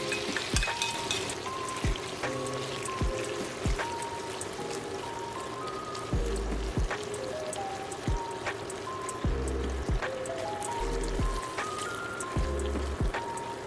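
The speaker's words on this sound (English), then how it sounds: "I add the peeled shrimp into the pan and pour in the sauce" Sauce pours into a hot pan holding peeled shrimp and nearly melted miso butter, giving a light trickle with faint sizzling and sparse drips, steady and close, with no talking.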